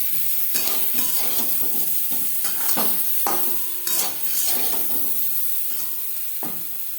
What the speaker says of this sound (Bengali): লবণ, হলুদ ও সামান্য পরিমাণে লাল লঙ্কার গুঁড়ো দিয়ে আলু ভেজে নেব।